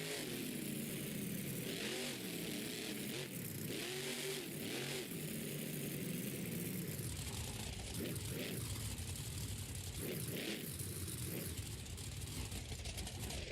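Several cars, motorcycle-like in tone, circle a track at Anaheim during a freestyle driving event, their engines revving and accelerating continuously, loud and close throughout with repeated surges as they pass.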